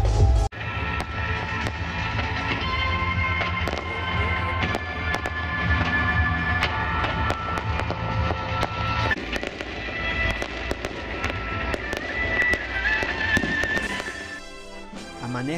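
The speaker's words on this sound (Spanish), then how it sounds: "las únicas bombas que estallan son los cohetes y los fuegos artificiales" Rockets and fireworks burst continuously at a festival for the Virgen de La Fuensanta in Alcaudete, a dense, loud crackle of rapid pops and bangs running throughout before cutting off near the end.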